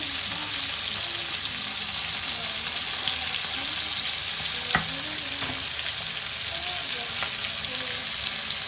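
Fresh fish fries in a pan with a steady, continuous sizzle, moderately loud and close, with a few brief clinks and stirring noises breaking through now and then.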